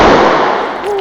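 A small explosive detonates close by, a loud broadband blast filling the whole second and decaying slowly, with a voice faintly starting at the tail.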